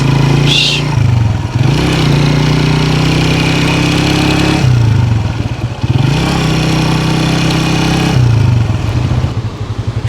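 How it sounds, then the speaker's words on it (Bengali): Motorcycle ridden along the Sea View beach area in Karachi, its engine droning loud and close with a steady mid-pitched hum, dipping briefly in revs several times as the rider shifts or eases off. "এত সুন্দর একটা প্লেসে বাইক চালানো ও কি দারুণ একটা ফিলিংস"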